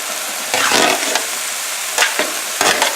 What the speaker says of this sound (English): I'm going to add the peppers now.